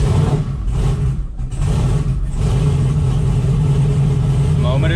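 A turbocharged LS3 car engine, fitted with stock LS3 rockers and a relocated wastegate, cranks and catches, then settles into a loud, steady, rumbling run close by.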